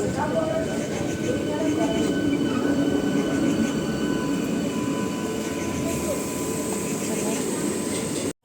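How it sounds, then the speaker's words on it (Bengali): A passenger train pulling into a railway station, its steady rumble and rolling wheels filling the scene, with faint squeals and metallic screeches, moderately loud and continuous throughout. "ওয়েট করতে করতে ফাইনালি ট্রেনটাও চলেও এসেছে"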